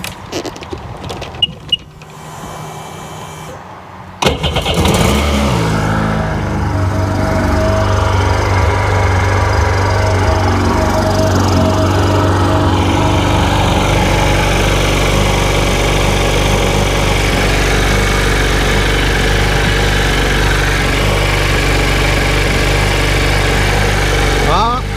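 A Sea-Doo RXDI personal watercraft engine cranks and catches, then settles into a loud, steady running drone that continues to the end, with people talking over it.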